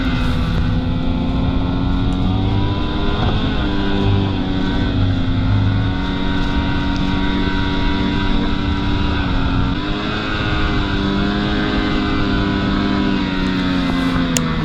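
Ski-Doo Gen 4 snowmobiles ride a trail at Old Forge with a steady, loud engine drone and track roar that rises and falls slightly, heard from the back of the group with no talking.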